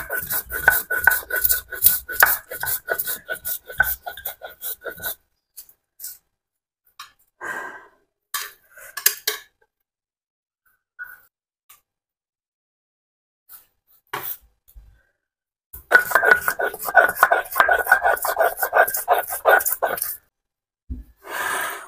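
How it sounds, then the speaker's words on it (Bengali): Spices being ground for beef curry, likely on a stone slab, a rhythmic rasping rub in repeated bursts with pauses between them, fairly close. "এবার মশলাগুলো একটু বেটে নিব।"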